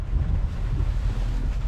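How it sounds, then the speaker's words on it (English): Heavy rain pours outside a van, a steady broadband roar with low rumbling wash, close and continuous with no voices. "Man, check this weather. It is pouring out here."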